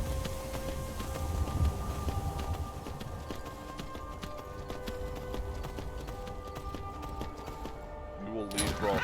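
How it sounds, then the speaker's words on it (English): Horse hooves clip-clop steadily as a horse climbs a mountainside in the video game Skyrim, a rhythmic run of hoofbeats at moderate volume over a soft background bed. "let's do a little horse mountain climbing"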